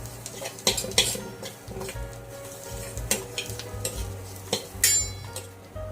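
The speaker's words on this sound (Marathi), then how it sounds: "हळद घातल्यानंतर छान असं परतवून घेऊ सगळ्या साहित्याला।" Kadhi ingredients with turmeric stir-fried in a pan: crackling sizzle under repeated spoon scrapes and metallic clinks against the pan, uneven in rhythm and close up.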